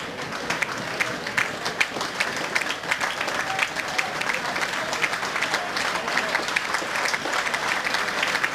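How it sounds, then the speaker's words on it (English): A football stadium crowd at a Plymouth Argyle versus Kidderminster Harriers match applauds steadily, a dense, even wash of clapping from a large distant audience that continues throughout without a break. "The applause is for Dwight Marshall."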